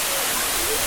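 Dense, roaring rush of water from Sirimane Falls near Sringeri, loud and continuous with a faint voice underneath.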